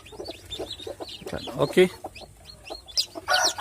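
Day-old chicks being separated from the mother hen cheep in rapid, high, repeated peeps close by, mixed with a few clucks, while a person briefly speaks.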